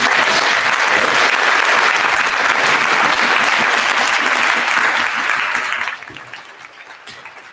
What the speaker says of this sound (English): I just think we should give him a round of applause